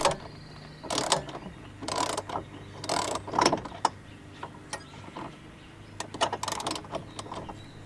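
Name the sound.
tightening bolts on Jeep Wrangler cargo top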